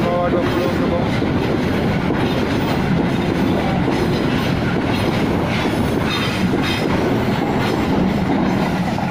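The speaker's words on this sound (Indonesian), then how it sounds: "kereta api batu bara isian pertama" Loaded coal freight train of 20 wagons passing on a railway track, a loud, continuous rumble with rhythmic clickety-clack of wheels and some squeal, close by throughout.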